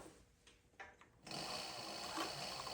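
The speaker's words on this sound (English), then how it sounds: "Let me put a few stitches in here to show you" A leather-shop sewing machine putting a few slow stitches into leather with a roller foot, a steady mechanical whir starting partway through and running continuously at close range with no talk.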